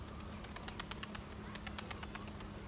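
A Seferli Sabuni pigeon in flight, with quick bursts of wing flaps in two clusters over faint, steady background noise.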